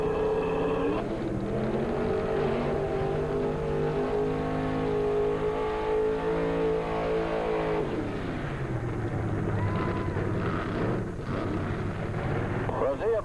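A little Chevrolet-powered T-bucket drag racing car at a dragstrip gives a loud, harmonic engine drone that holds and then drops away sharply before rough, lower rumbling takes over, with an announcer talking over it.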